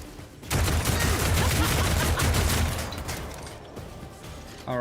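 Dense, rapid gunfire from Warhammer 40k Rogue Trader, a loud sustained volley of overlapping shots lasting about four seconds after a brief quiet start, then trailing off.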